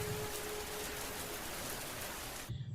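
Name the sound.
rain dripping on a hut roof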